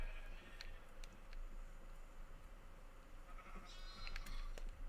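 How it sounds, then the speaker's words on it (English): Baby sheep in Minecraft bleat in a few short, thin cries over a steady low hum, fairly faint and in the background with no talking. "How many baby sheep did we just get?"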